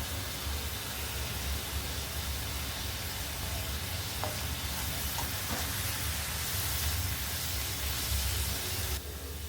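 Onions sautéing with curry leaves in a pan give a steady, dense sizzle that holds evenly throughout, close and fairly loud, with no talk.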